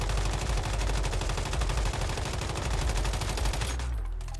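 Sustained rapid automatic fire from an M416 rifle in the Once Human shooter game, loud, dense and evenly rhythmic, cutting off abruptly near the end and leaving a brief low tail.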